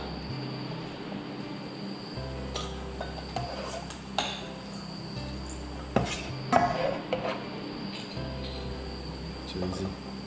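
Chopped vegetables for vegan gyoza are tipped into a bowl, giving scattered clinks and soft clatters of dish and utensil, with a cluster of knocks midway, over steady low room hum.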